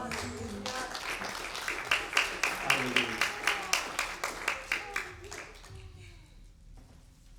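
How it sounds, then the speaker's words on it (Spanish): A church congregation claps in a steady, rhythmic beat, loud and close, then fades away toward the end, with voices calling out over the clapping. "Dale un aplauso al Señor."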